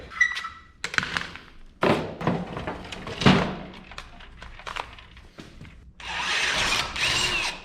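A power drill bores a hole in a truck part on a 1976 GMC short bed, starting and stopping in bursts with thumps and clunks between, then a steady whining run at the end, close and loud.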